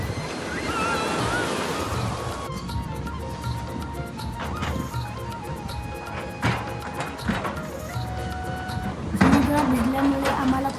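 Sea waves wash and crash steadily on Guhagar beach, a loud continuous roar of surf with occasional sharper impacts, and people talk over it.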